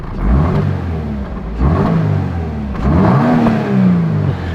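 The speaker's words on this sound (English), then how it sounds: "Can you rev up my car for me?" A stock 2022 Subaru BRZ engine revs three times in quick succession, each blip rising and falling back toward idle. The bursts are close and moderately loud, with no voices over them.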